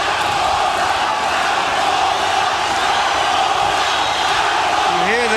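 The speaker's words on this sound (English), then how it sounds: "You hear the crowd chanting for Zaragoza, Zaragoza." Arena crowd at a super bantamweight title boxing match between Daniel Zaragoza and Erick Morales gives a dense, loud, sustained roar that sounds like chanting, with voices carrying over it.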